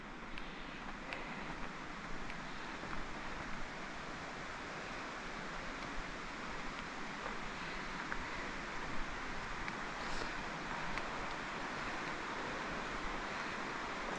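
Gocta Waterfall in the Andes of northern Peru, a continuous broadband roar of falling water, steady and dense for the whole stretch with no voices over it.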